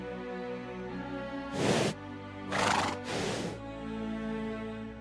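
Horses in Minecraft neigh and whinny in two loud, close bursts over a steady game music background.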